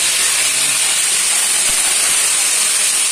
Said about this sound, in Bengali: তেল হয়ে গেছে, আমি ফুলকপিটা অলরেডি চাপিয়ে দিচ্ছি।